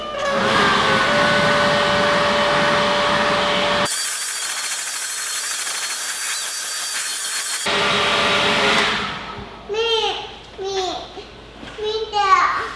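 Loud blower drying a 2019 Camaro SS after a wash, a steady close roar that cuts out partway through, followed by a voice and other talk.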